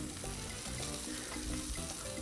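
Bacon cheeseburger patties fry on a Blackstone 22-inch griddle set on low, giving a steady, dense sizzle that runs unbroken and close-up with no one talking.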